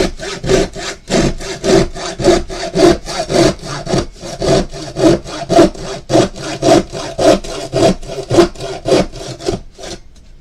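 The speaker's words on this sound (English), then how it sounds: "Normally I don't saw inside the house" A hand saw cuts through wood indoors, making a loud, close, even rhythm of rasping strokes, about two per second and continuing for around ten seconds with no talking.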